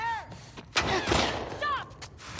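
Gunfire in The Last of Us Part II rings out in a couple of sharp shots amid game sounds and shouted voices, with a player talking over the action.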